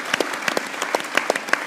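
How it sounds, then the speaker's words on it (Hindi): Studio audience clapping on a cricket talk show, a sparse handful of sharp, separate hand claps in quick irregular succession, close and fairly light, with no voices over them. "मैं एक जोरदार तालियां अपनी ऑडियंस को दूंगा।"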